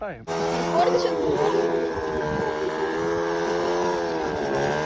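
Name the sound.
motorcycle engine running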